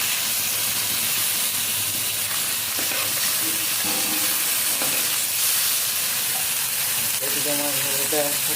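Fish curry sizzles and spits as it is stirred in a frying pan, a steady close hiss with occasional scraping, and a few brief voices heard faintly in the background.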